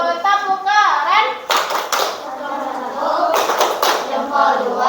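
A classroom group performs the 'tepuk keren' clapping chant, with several sharp bursts of rhythmic group clapping mixed with children's chanting voices, loud and close throughout.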